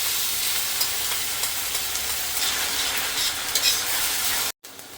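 Onions frying in a pan with ginger and garlic paste stirred in make a steady, loud sizzle with stirring scrapes, cutting out abruptly near the end.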